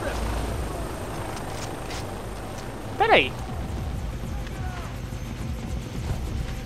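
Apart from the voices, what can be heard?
helicopter in the video game Far Cry 3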